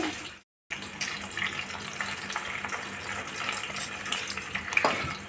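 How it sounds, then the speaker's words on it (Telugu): Chicken pieces deep fry in oil for an Andhra-style chicken pickle, making a steady bubbling sizzle and hiss up close. A brief silent gap comes near the start, then the sizzling carries on alone. "డీప్ ఫ్రై చేసుకున్నామండి ఇప్పుడు ఇవన్నీ ముక్కలంతా వేగనిద్దాం"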